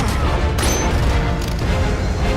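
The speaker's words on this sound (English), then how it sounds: "Walking through gunfire like a boss." Gunfire in the film The Dark Knight Rises: a dense, loud barrage of shots and booms blurring into a continuous roar, with no talking.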